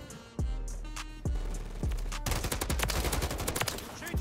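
Gunfire from Modern Warfare 3: a few separate heavy shots give way to a sustained, rapid automatic burst, loud and close, from a weapon with no recoil.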